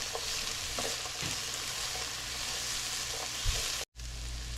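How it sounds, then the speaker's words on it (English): Onions frying in a pan, cooking until translucent: a steady close sizzle throughout with a few faint stirring clicks and a momentary cut near the end, no talking. "I added the onions in, and we're just going to make them, cook them until they're translucent."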